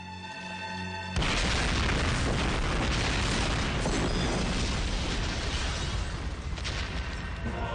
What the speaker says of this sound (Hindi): यहाँ बम फटने वाला है।